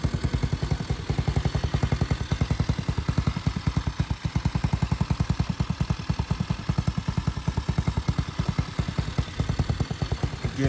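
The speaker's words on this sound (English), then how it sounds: "Time to put some gas in there and fire it up." A 125cc go-kart engine fires up and runs with a rapid, even chugging pulse, loud and close, clattering steadily throughout without any voices.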